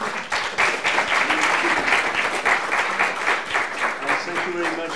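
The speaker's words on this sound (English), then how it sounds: "Let's give them a round of applause" Audience applauding panelists after a discussion on information, propaganda and fake news, a close, steady burst of clapping mixed with some talking and crowd noise.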